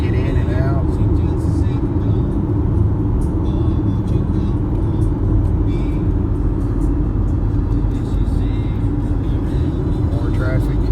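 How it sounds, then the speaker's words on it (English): Steady road traffic rumbling beside a field used for a yard sale along Highway 127, cars and motor vehicles moving in and out with continuous low engine drone and occasional whirs, fairly loud and constant throughout. "you can see the traffic trying to get in and out."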